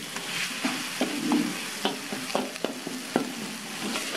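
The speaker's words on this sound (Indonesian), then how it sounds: "Ini diaduk. Ini harus diaduk terus." Spice paste and fish sizzle in a pan while being stirred to make fish floss, with a steady frying hiss broken by frequent scraping strokes of the spatula, heard close up.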